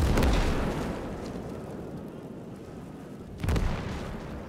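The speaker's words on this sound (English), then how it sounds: "Got the artillery helping us, so managed to kill the officer with the artillery." Artillery fire in the WWII game Gates of Hell: a heavy blast at the start rolls into a long rumbling decay, then a second loud boom lands near the end, both deep and full-bodied.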